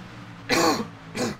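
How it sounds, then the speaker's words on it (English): Two short, harsh coughs, close and fairly loud, the second a little softer, over a faint low background hum. "Sorry for the cough again."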